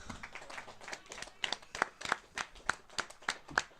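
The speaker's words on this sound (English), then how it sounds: "the crowd just clapping off the injured player" A crowd claps an injured player off the field at a ladies league tag match between Orara Axemen and Grafton Ghosts, with sharp, scattered hand claps rising toward the end, fairly faint and distant.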